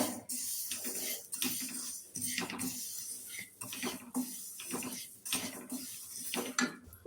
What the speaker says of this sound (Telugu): నూగులు ఇంకా మనం వేయించుకోవాలండి కాస్త